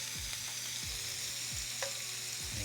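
Shrimp sizzling in melted butter in a pan, a steady close fry with repeated scraping stirs of a utensil through the pieces, no voices.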